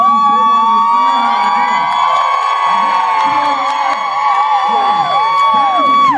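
Audience at a drag show cheering and whooping loudly and steadily throughout, a dense continuous crowd roar with shrill voices rising above it.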